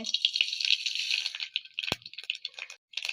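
Mustard seeds dropped into hot coconut oil in a pan for a Kerala curry, a dense crackling sizzle that runs steadily and then breaks into scattered pops, fairly close.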